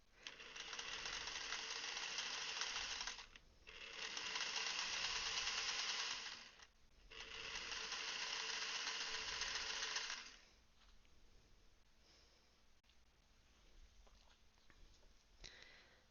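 A sewing machine stitches in three steady runs of several seconds each, separated by short pauses, loud and close, then falls to quiet handling noises.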